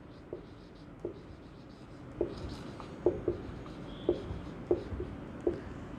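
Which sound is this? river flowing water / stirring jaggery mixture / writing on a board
writing on a board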